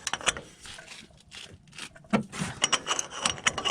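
A stuck strut bolt on a 2003 Tacoma is broken loose with a pipe slipped over the wrench for leverage, giving a run of close, sharp metallic clicks, creaks and knocks that come in irregular bursts, getting busier toward the end.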